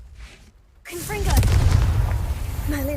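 A Confringo blasting spell fires in Hogwarts Legacy, erupting from near-silence into a loud, sustained booming burst with crackling and rumbling that stays heavy through the end, a brief tonal game sound rising near the close.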